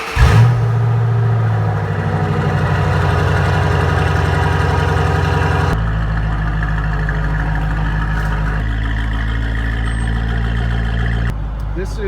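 A 2006 Shelby GT-H, a Ford Mustang GT, idles loud and close with a steady deep rumble that shifts tone partway through, and a voice speaks over it.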